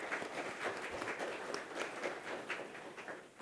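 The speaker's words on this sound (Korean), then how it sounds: "박수 한번 부탁드립니다." Audience clapping after an academic lecture on the Goryeo-era Tripitaka Koreana woodblocks, a fairly quiet, steady patter of many hands held at an even level through the moment.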